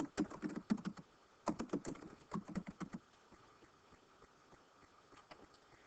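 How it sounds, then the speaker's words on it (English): Computer keyboard typing in quick bursts of close, crisp clicks for about three seconds, then fading to faint scattered taps over low room hiss. "You would just simply type in class rules."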